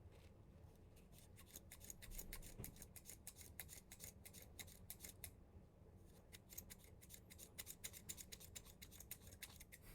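Scissors snip close by in a steady run of crisp, repeated cuts through yarn, with faint handling rustle between strokes.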